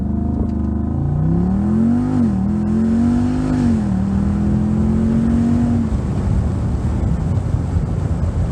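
A Jeep SRT engine on a dyno climbs through a long rising rev, its tone swelling for several seconds before giving way to a loud, roaring rush of air and noise, with wind buffeting the mic.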